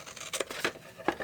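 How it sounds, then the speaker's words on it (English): A long pair of scissors cutting paper for a gift box, three quiet crisp snips spaced out in close succession, with no talk. "So a long pair of scissors, and then just cut straight up all of these."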